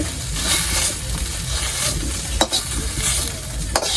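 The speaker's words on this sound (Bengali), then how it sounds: "মাছগুলো সব বাজি করা হয়ে গেছে আমি উঠিয়ে নিচ্ছি" Fish frying in hot oil in a wok for a potato and fish curry, a steady loud sizzle with stirring scrapes and a couple of sharp clinks, no voices.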